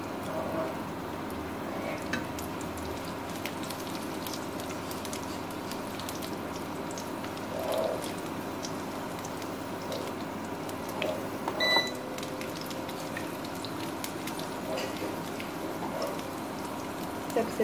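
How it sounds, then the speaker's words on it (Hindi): Rice frying in a pan for a sweet rice dessert, a steady close crackle and sizzle that carries on evenly with small pops and occasional stirring clinks. "अच्छे से फ्राई होने देंगे हम इसे।"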